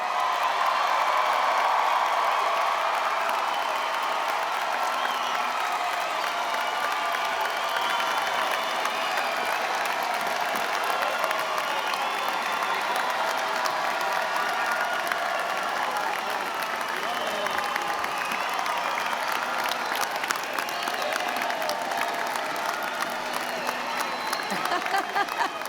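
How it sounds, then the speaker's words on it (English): A large commencement crowd applauds graduates in a sustained, dense wash of clapping that holds steady throughout, with scattered cheers and whoops mixed in. "Let's have one more round of applause for our graduates"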